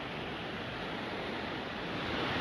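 Floodwater rushes through a flooded residential area of Erbil's Zirin district after heavy rains and flash floods, a steady, close, broadband roar that holds an even level throughout with no voices.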